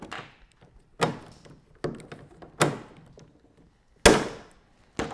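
A rivet gun setting rivets while fitting a Bixpy Willfit gudgeon, heard as six sharp, separate snaps and thunks spaced about a second apart, close and loud with no talking.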